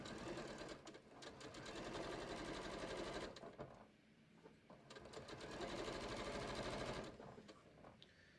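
A sewing machine stitches cushion cover fabric in quiet, fast steady runs, pausing briefly twice before starting up again.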